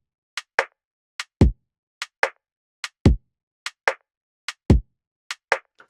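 Lofi hip hop drum beat played with a 74 percent swing on the eighth notes: crisp clicky hits and deep kicks repeating in a loose, lazy, even pattern, close and dry with nothing else audible.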